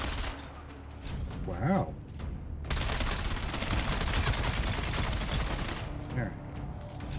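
Rapid bursts of video game gunfire rattle in dense volleys, loud and sustained, with brief pauses between strings of shots; a voice speaks a short exclamation early on.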